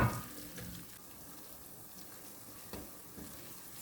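Quiet sizzling in a pan of pepper and tomato paste with a soft scraping stir or two, close and low, with no voices.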